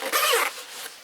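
A zipper on the main pocket of a GORUCK 10L Hydration Bullet pack is pulled open in one quick, close, loud rasping stroke, followed by a softer trailing scrape.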